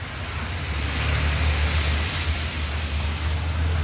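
Water gushing hard from an overflowing sewer manhole on a busy street in Casablanca, a loud, constant rushing roar heard up close with no break.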